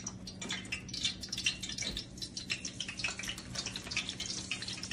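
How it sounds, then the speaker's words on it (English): Water droplets sizzling and crackling in hot frying oil in a pan for frying fish, a dense run of quick close pops and spits throughout with no talking. "you can take a little sprinkle of water just to see if it bubbles"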